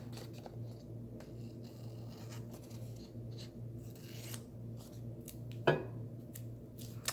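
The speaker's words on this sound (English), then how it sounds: "I am simply just going to cut all the excess off." Scissors trim excess paper from a reading journal page in a quiet room: soft snipping and rustling at close range over a low steady hum, with one sharper cut near the end.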